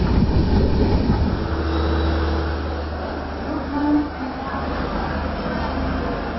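Steady low rumble and rattle inside a Shatabdi Express passenger train travelling toward Bhopal, with muffled voices in the carriage beneath the continuous running noise.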